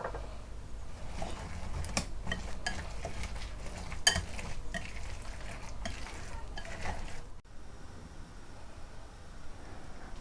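Cauliflower pieces, onions and green chillies are stirred into a gram flour batter for pakoras. Wet mixing and scraping sounds run steadily at close range, with a few light clinks, and the clip goes quiet near the end.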